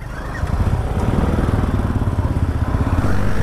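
A motorcycle engine runs close by with a steady, rhythmic low throb that builds slightly in loudness and has no talking over it.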